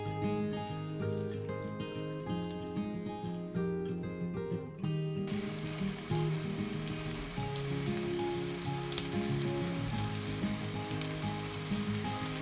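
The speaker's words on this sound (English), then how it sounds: "Fry all the meatballs until golden brown." Meatballs frying in a hot pan for spaghetti with tomato sauce, a steady close sizzle that starts under soft background music and then runs alone and dense, with continuous crackle and spatter.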